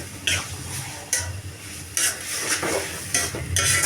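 A spoon stirs mashed banana blossom paste in a pan, with rhythmic scraping strokes repeating about every second over a low frying hiss, close and fairly loud, without speech.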